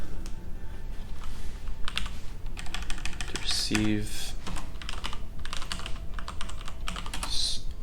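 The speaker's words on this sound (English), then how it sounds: "The amount of spelling mistakes I make when typing on a computer," Fast, uneven clatter of keys on a computer keyboard runs throughout, close and fairly loud, with brief bursts of spoken words over the typing.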